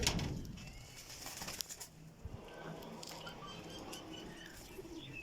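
Kasuri pigeons coo softly in a loft, low murmuring calls mixed with faint wing flutters and scratching, quiet and close with no talk.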